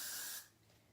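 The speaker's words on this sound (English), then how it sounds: "So I'm gonna take some of this Got To Be Glue Freeze spray." Got To Be Glue Freeze hair spray hisses from a can onto a bun in one short, close spray burst that cuts off quickly.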